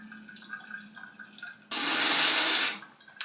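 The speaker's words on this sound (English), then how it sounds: "tip this into one nostril, lean the opposite direction, and then it just flushes all the way through" Saline rinse poured from a neti pot flushes through the nose with a sudden, close, loud rush of water lasting about a second, set against quiet room sound.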